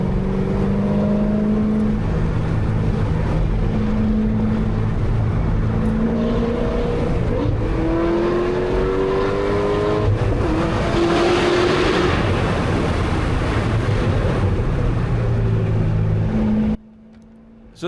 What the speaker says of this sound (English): I think I'm just gonna record raw, like unedited canyon driving.